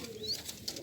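Pigeons in a loft coo softly and faintly, giving low, rounded murmurs with a faint chirp or two in a brief, quiet stretch.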